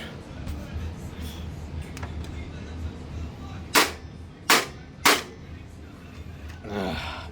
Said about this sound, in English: even the bottom drive is having problems with its tray